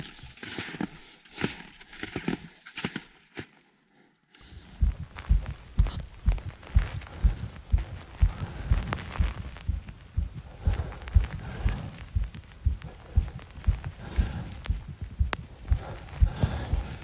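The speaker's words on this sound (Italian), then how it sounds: "Ora vediamo se riesco a farvi sentire il battito." A hiker's heartbeat thumps in a steady, fast, muffled double pulse, close and low, after a few seconds of rustling, during a climb toward a peak in the Dolomites of Alta Badia.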